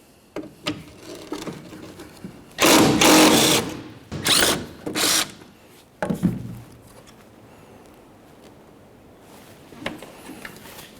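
A power tool whirs in a few short bursts as two 10mm-headed tail light mounting bolts come out of a 2004-2015 Nissan Titan with the tailgate open, the bursts close and loud with quiet gaps between.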